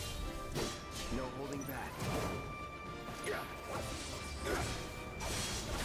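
Combat in Final Fantasy 7 Remake, with repeated smashing hits and swooshing strikes landing on an enemy, all beneath continuous game music and layered sound effects, while a voice talks over the action.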